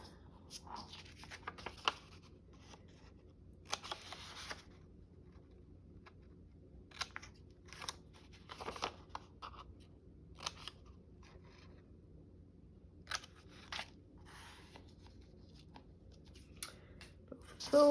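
Scissors snipping through fabric in short bursts of crisp cuts, separated by quiet pauses, with light handling noise in between, close and fairly soft.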